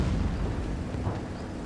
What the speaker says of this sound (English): after firing my first shell, I can easy fire again